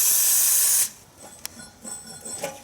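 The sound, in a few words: spraying penetrating oil on rubber exhaust hangers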